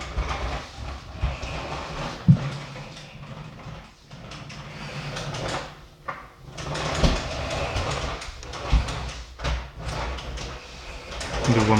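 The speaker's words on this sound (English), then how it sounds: "He's having fun with his train." A child's toy train runs with a continuous rattling, clattering rumble and rhythmic clicks, fairly close and steady throughout, with small bumps and knocks along the way.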